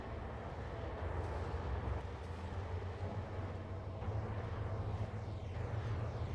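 A train in Trainz Simulator 2 rumbles steadily with a low engine drone and faint rail noise throughout, fairly quiet and with no talk over it.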